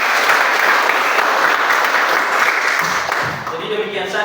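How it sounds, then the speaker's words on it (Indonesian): An audience in a classroom guidance session applauds at the close: loud, continuous clapping that thins out toward the end, with a few voices mixed in. "Tepuk tangan kita semua"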